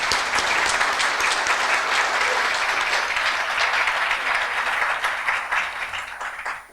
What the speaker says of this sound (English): So a nice round of applause for those folks